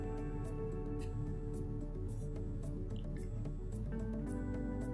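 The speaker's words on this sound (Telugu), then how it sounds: "అల్లం వెల్లుల్లి పేస్ట్ వేసుకున్న తర్వాత మళ్ళీ ఒకసారి కలుపుకోవాలండి" Dal dosa batter made with toor dal and egg is stirred with ginger garlic paste, giving soft, repeated wet squishing and dripping sounds close up over a low steady hum.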